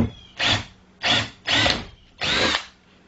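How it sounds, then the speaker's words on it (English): Four short bursts of an electric drill spinning up and cutting corner holes for a jigsaw blade, each about half a second, close and loud with brief pauses between. "I need to drill 2 holes in the corner here"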